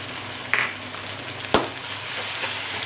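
Ginger garlic paste frying with golden onions in hot oil, a soft steady sizzle broken by two quick stirring scrapes of a spoon in the pan, with no talking.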